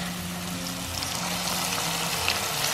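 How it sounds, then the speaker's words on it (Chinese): Flour-dusted tofu fries in hot oil in a wok, making a constant, even sizzle with a low steady hum beneath it. "锅中倒油，油温大概七成热的时候，我们沿着边缘下入豆腐"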